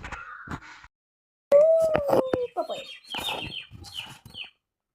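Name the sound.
birds and fowl calling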